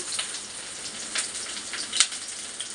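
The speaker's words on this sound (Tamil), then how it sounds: "வெங்காயத்தை நல்லா வதக்கிட்டு" Onions sauté in a pan with a soft, continuous sizzle and a few sharper crackles and stirring scrapes, fairly quiet and steady with no talking.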